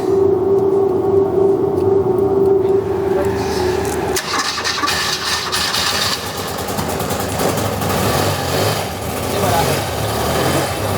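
A restored BMW R100RT motorcycle engine runs steadily at close range after a stuck carburettor needle is freed, a continuous mechanical drone with a brief whine early on, while people talk over it.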